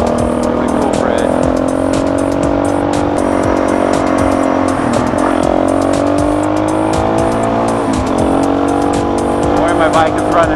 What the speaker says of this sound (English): Don't worry, my bike is running well today.